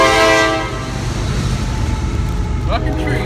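A train rolls past nearby with heavy low rumble and a horn-like tonal blare at the start, continuing as a steady close roar through the short stretch.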